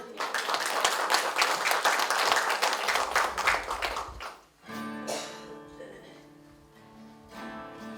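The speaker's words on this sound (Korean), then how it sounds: "끝나는데 박수라도 크게 박수 주세요" Applause from an audience at a Korean cultural center outing, dense clapping for about four seconds before it gives way to a quieter passage with sustained tones and a few sparse claps.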